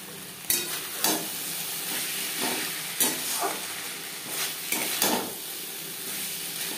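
A spice masala sizzles with potatoes over a low-to-medium flame for a fish curry, macher jhol. Steady frying hiss is broken by sharp, irregular spatula scrapes and clacks against the pan, with no voices.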